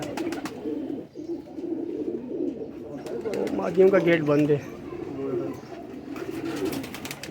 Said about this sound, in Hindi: यार ये सारे धूप में उड़ने वाले कबूतर हैं माशाल्लाह।